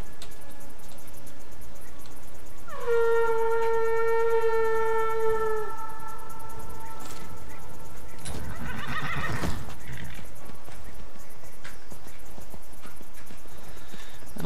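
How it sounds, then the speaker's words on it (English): A horse in the video game Skyrim whinnies loudly after being summoned, a long falling neigh with sharp tonal harmonics, followed a few seconds later by a brief burst of noisy movement. "Okay, horse call."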